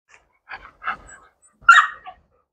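A Malinois dog gives a few short whimpers and yips, then a louder bark near the end, spaced out in the close foreground with quiet gaps between them.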